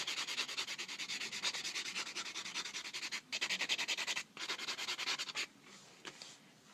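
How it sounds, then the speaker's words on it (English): A nail buffer rubs quickly back and forth over a fingernail during nail art, a close, rhythmic scratchy sanding with short pauses between bursts of strokes. "let me just buff it out real quick"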